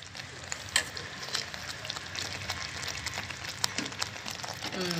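Chicken pieces dropping into a simmering chicken gravy with oil risen to the surface, giving a steady close sizzle and bubbling with a few scraping stir sounds and a soft thud near the end.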